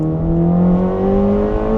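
A twin-turbo Corvette C8 ZR1 or Z06 engine drones steadily and loudly, its pitch rising slightly as it revs and the turbos spool up, with a deep, sustained whir throughout.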